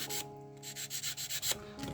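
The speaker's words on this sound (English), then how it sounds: "So what I want to do is just sand the front" Sanding the front of a model vehicle part to trim about 2 millimeters, heard as a series of short, close, rhythmic scratchy rubbing strokes with brief pauses between them.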